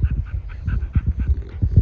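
Quick, rhythmic panting of American Bully puppies close up, mixed with a few soft whimpers and snuffles, with no voices.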